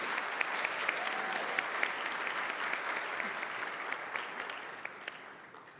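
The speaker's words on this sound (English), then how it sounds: "a round of applause is great" Dense, sustained applause from a conference audience fills the room at an annual conference, a steady wash of many hands clapping at even loudness that tapers slightly near the end.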